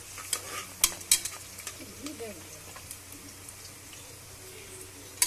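A spoon stirs onions frying in a pan for biryani. Quiet scraping and a few sharp clinks sit over a soft, steady sizzle, heard up close.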